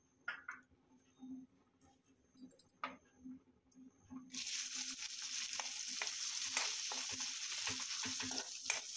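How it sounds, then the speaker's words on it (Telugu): Onions frying in hot oil, the same oil used earlier for eggs in an egg curry. Quiet stirring and light clinks come first, then a loud, steady, close sizzle that holds to the end. "ఉల్లిపాయని ఫ్రై చేసుకుందాం."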